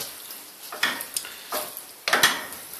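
A spoon stirs carbonara pasta with crème fraîche in a pan, giving a few soft wet scrapes and clinks spaced out over a quiet background.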